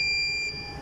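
A plasma sterilizer's validation indicator sounds its alarm, a steady high electronic tone that cuts off partway, followed by a second faint beep against quiet room background.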